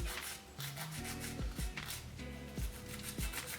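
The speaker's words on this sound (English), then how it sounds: "So next step is buffing." The gritty side of a nail file buffs a press-on nail in quick, close back-and-forth rubbing strokes, steady and fairly soft, with faint background tones underneath.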